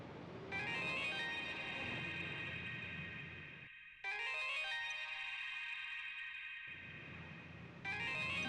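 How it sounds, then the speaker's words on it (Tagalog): A cellphone rings loudly with a bright, buzzy electronic melody that repeats in bursts, a brief gap splitting the phrases before the tune starts again. "Nag-ring po yung cellphone."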